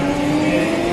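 A drift car on a shakedown run at the Okuibuki 2018 competition gives off a continuous loud engine roar with a steady drone, heard briefly and without any talk.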